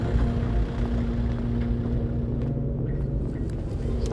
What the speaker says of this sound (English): this is an English Electric Lightning, the most beautiful fighter aircraft ever built